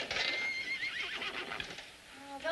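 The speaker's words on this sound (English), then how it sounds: "those horses are so noisy tonight" Horses whinny loudly at night, one long shrill neigh rising and falling, then another shorter cry near the end, with faint hoof clatter and no talking.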